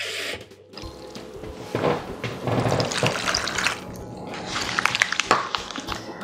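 Water runs from a measuring cup into a bowl of strawberries and vinegar, a splashing pour that swells and trickles in uneven bursts with several short clatters, close up and without talk.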